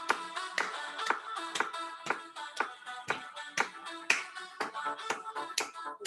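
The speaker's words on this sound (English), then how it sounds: "Let's get up out of our seats and clap our hands." Children clap their hands together in a classroom sing-along, a steady run of sharp, fairly close claps with an uneven, loose rhythm and no talking.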